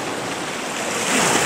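Wind-driven sea waves on the Mediterranean off Zakynthos, a steady broadband wash of surf with wind noise that swells slightly louder toward the end, no voices present.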